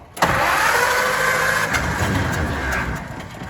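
A car engine cranks and catches just after an electric fuel pump has been fitted to feed the carburetors, then settles into a steady, loud running idle with a slight rise in revs before easing off.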